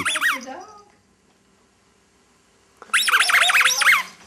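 A dog whines and yips in high, wavering bursts, one short run at the start and a louder, rapid cluster near the end, with near-silence between them, close by in a quiet home.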